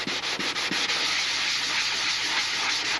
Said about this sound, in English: this is the first time we're sanding this material